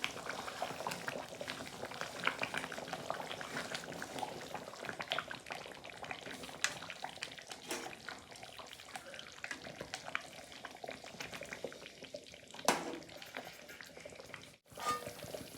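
Chicken curry with gravy bubbling steadily in a covered pan, a soft continuous simmer with faint liquid gurgles and occasional stirring clinks, close and fairly quiet.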